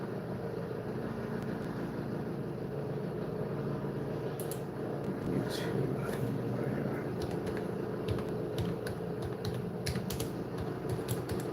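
Keys clatter on a computer keyboard in scattered bursts of typing, set over a steady low background hum, with no talking.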